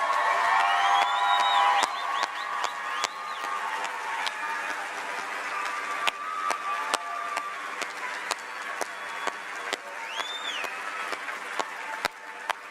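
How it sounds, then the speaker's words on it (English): A commencement audience at a university graduation ceremony applauding and cheering, a broad continuous roar of clapping with scattered whoops and whistles, loudest at the start and then holding steady throughout. "Please give the warmest round of applause"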